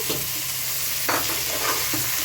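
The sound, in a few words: tomatoes frying in a pan with cashews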